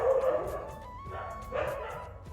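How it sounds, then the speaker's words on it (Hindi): Dogs barking outdoors near a house, a run of sharp yipping barks with some whimpering, loud at first, easing off, then rising again toward the end, with no talk over them. "बाहर कुत्ते क्यों भौंक रहे हैं?"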